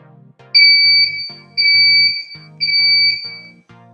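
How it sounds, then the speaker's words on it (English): An electronic buzzer sounds in three steady, shrill bursts of about a second each, separated by short gaps, loud and close, with a low clicking underneath. "the LED goes off and the buzzer goes off."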